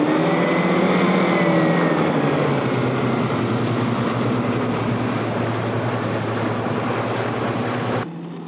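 A Formula 4 race boat's outboard engine runs under throttle, a loud sustained droning whine with rising pitch early on, then holding steady before dropping off abruptly near the end, with water and wind noise around it.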